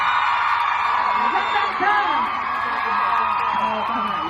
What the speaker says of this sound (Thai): ถ้าทุกคนนะพร้อมสปอร์ตน้องขอเสียงกรี๊ดใหยน้องฟอนด้วยค่ะ